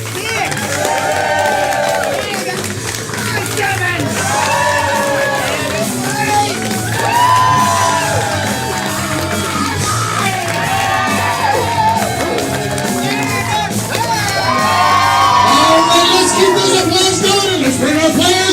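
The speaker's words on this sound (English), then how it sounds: "Hooting, hollering, screaming at a 5." A live audience at a wrestling-style main event show hoots, hollers and screams continuously, a loud, dense wall of cheering voices with rising yells that swells toward the end.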